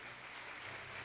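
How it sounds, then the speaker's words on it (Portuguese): Church congregation clapping in a short, steady burst of applause, dense and even, with no voices on top. "Dá uma salva de palmas a Ele."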